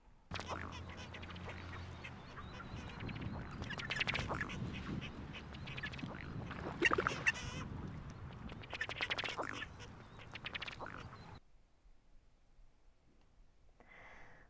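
Ducks call with a series of raspy, belch-like quacks, the drake's courtship call, heard close over outdoor background noise before cutting to near silence, with a faint call near the end.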